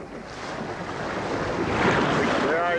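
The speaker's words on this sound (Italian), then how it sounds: "In superficie il mare comincia ad agitarsi ed Eloy cerca di evitare che le onde facciano ribaltare la barca." Rough sea waves churn around a small boat at a marine reserve, a loud continuous rush of water and wind buffeting the microphone that swells toward the end, with no clear talk.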